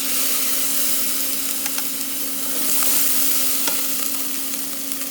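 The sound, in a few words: pan deglazed with sherry vinegar, sizzling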